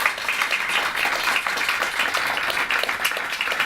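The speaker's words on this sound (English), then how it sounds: "Round of applause for the panel." An audience at a conference panel on green festival events applauds steadily, a dense even patter of clapping that stays moderately loud for a few seconds with no talking.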